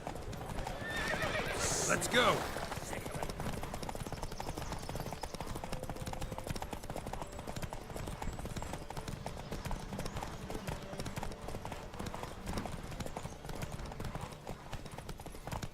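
Rhythmic hoofbeats of a galloping horse in The Witcher 3 pound steadily throughout, with a neigh early on and a voice speaking briefly over them.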